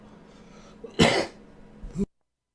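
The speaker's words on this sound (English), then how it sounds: "sorry I had to cough there" A single loud, harsh cough bursts out up close, followed by a smaller throat-clearing sound before silence.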